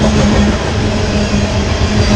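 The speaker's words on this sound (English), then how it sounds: "I set it up to get a cool shot of the train coming by" A train passes close by in a suburban setting, its loud steady rumble and rolling wheel noise filling the whole stretch without pause.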